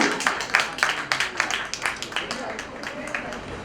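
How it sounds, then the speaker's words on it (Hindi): Audience applause for a performer at a cultural society stage event: a dense wash of many hands clapping at close range, steady throughout with scattered sharper claps rising above the crowd. "एक बार मुकेश जी के लिए भी बहुत जोरदार तालियां हो जाए प्लीज"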